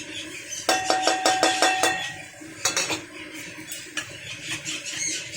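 Ground coriander, cumin, chilli, turmeric and salt stirred into hot oil in a wok, a metal spatula clinking and scraping the pan in a quick run of rhythmic taps, then a few scattered clinks, fairly close, no talk.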